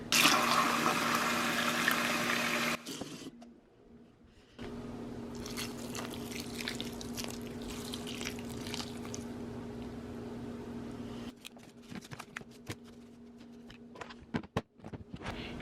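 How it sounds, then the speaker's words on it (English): Warm water pours into a compost bin in an apartment, starting with a loud gushing burst. It then settles into a quieter, steady trickle and sloshing, followed by a few squishy handling sounds near the end. "I'm gonna add in some warm water and see if maybe that helps the decomposing."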